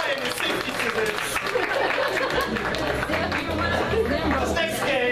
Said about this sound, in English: Round of applause for time and safety scissors.